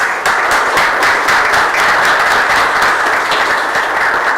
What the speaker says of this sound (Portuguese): solicitar aos vereadores para que façam uma salva de palmas